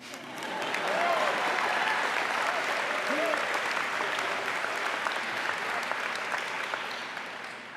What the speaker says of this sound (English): Each of us, you can clap, you can clap.